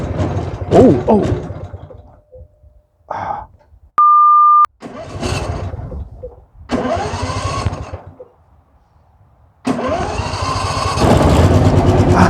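A Husqvarna riding mower engine cranks in several short bursts, broken by a brief electronic beep, then catches and runs loud and steady to the end; a voice briefly exclaims.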